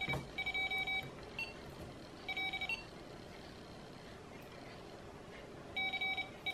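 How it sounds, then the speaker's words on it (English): An Arduino-based Morse code tutor for ham radio beeps a letter in short high-pitched electronic tones, in three spaced bursts of quick beeps against a quiet hiss. "when it goes beep, it gives me a character of what the mode currently is"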